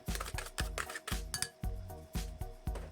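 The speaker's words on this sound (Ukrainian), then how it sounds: "Одну морквину натираємо на дрібній терці" Rhythmic scraping strokes of a carrot against a fine metal grater, repeated back and forth at a steady pace, close and fairly quiet with faint clinks.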